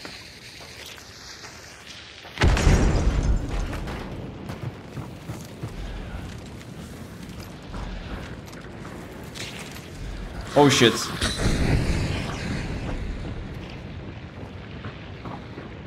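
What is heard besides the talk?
explosion in the video game Hunt: Showdown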